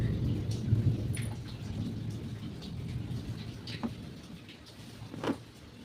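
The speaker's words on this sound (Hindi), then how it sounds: "यहाँ पर बारिश हो रही है और बिजली भी बहुत हो रही है" Steady rain falls during a thunderstorm with lightning, a continuous patter with low rumbles of thunder beneath it and a few sharper cracks, moderately loud and heard alone without talk.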